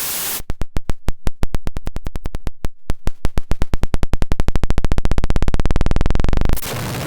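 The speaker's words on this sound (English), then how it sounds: "here I simply have the output of the wavefolder patched back into its own input" A modular synth wavefolder with its output patched back into its own input makes a loud, harsh stream of buzzing pulses that speed up into a dense, continuous noisy drone and then cut off abruptly.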